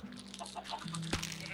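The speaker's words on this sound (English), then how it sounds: "I just see all these chickens running around." Minecraft chickens cluck quietly in a short burst of several soft clucks, with a faint low steady hum and a sharp click near the end.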